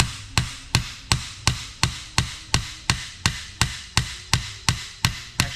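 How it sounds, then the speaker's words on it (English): Hammer blows on parts during a rebuild of an NP203 transfer case, about fourteen sharp metallic strikes in a steady, even rhythm, close and loud with no talking. "Actually need a heavier hammer."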